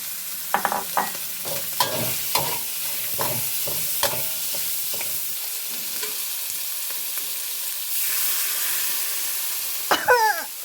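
Pork stir-fries with red curry paste and long beans in a hot pan. Repeated spatula scrapes and clanks ride over a continuous close sizzle, the hiss swelling briefly louder toward the end.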